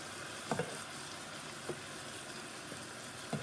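Gluten-free Alfredo sauce of heavy cream and butter cooks in a pan with a soft, faint sizzle, broken by a few quick scraping stirs of a utensil, close up and with no one talking.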